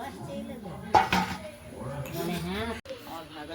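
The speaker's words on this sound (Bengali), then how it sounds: "মোচাটা কেটে নিচ্ছে কাকিমা" A knife cuts and chops banana flower (mocha) on a board in a home kitchen, with a few sharp close clinks and taps of the blade among softer scraping, while someone talks over it.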